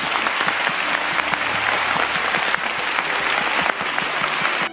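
Dense, sustained applause fills a large hall at the 59th Golden Horse Awards ceremony as the audience claps for a best-feature-film team, loud and steady throughout with a slight dip partway.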